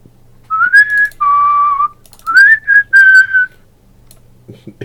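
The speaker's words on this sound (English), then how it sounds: "Who was whistling then?" A person whistles a tune in clear, close melodic phrases, several sustained and sliding notes in two bursts separated by a brief pause, loud and alone in a quiet room.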